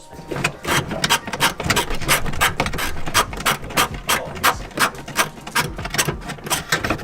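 Rear strut bolts on a 2013 Subaru WRX being loosened with a ratchet during a coilover install. Rapid rhythmic clicking and whirring bursts repeat close up, with no talking.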